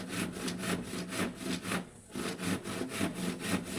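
A handsaw cuts through a wooden door to trim it for fitting, with steady back-and-forth rasping strokes, moderately loud and close, and a brief pause partway through.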